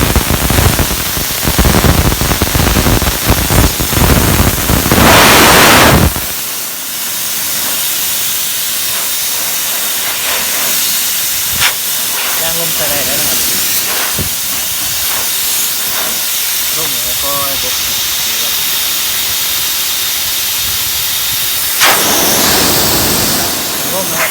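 An oil-free Kanto 50-litre air compressor: a steady motor hum with hissing air runs throughout, preceded by a louder burst of machine noise and hiss in the opening seconds; no voices.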